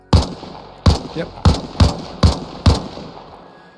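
Six loud M16 rifle shots fired at a Ural truck in a video game, spaced evenly about two thirds of a second apart, each a sharp crack with a short decay, and a voice gives a brief one-word reply.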